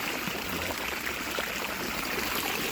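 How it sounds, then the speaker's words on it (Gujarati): Irrigation water runs steadily into a rice paddy field, a constant close rushing and trickling wash with no pauses and no talk over it. "હવે આની અંદર પાણી ચાલુ કર્યું છે એટલે હવે આની અંદર જશે"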